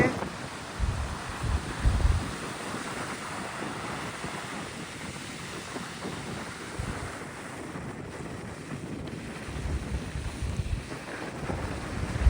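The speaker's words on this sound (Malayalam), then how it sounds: "ഇവിടെ നല്ല കാറ്റുണ്ടെന്ന് വെച്ചാൽ നല്ല കാറ്റുണ്ട്" Strong wind buffets the microphone at a beach where people are wing surfing, a steady roaring rush with gusty low thumps and surf noise underneath, continuous for the whole stretch.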